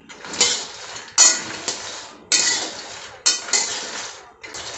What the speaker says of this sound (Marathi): याच्यामध्ये आपण मखाने आता भाजून